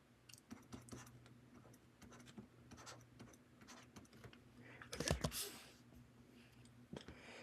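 Quiet, close scratches and taps of pen or chalk writing out a matrix equation, in irregular short strokes over a low steady hum, with a brief louder scraping burst midway.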